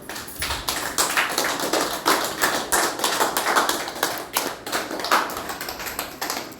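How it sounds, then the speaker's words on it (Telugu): A small group claps in thanks at the Amma Seva Sadanam ashram in Aswaraopeta, giving steady, close applause made of crisp, irregular hand claps. "అన్నదానం ఏర్పాటు చేసిన రాము గారికి కృతజ్ఞతలు తెలియజేస్తూ క్లాప్స్ కొట్టండి"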